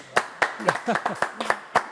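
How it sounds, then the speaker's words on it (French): About seven sharp, evenly spaced claps ring out on a French television studio set, with voices talking between and over them. "On applaudit"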